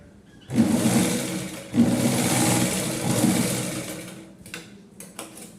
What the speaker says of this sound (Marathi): मागच्या साईडला मध्यभागी हे स्टिच करून घ्यायचं आहे